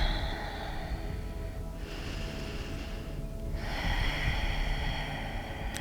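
Heavy breathing through the nose and mouth during a yoga hip mobility exercise, with a few loud, close inhales and exhales and no talk.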